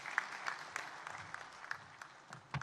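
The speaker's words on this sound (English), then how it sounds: "Can we have a huge round of applause for C.P. Chalsa, the Secretary General" Audience applause at a dairy industry conference, scattered hand claps with a loose, uneven rhythm, fairly faint and distant, with no voices over it.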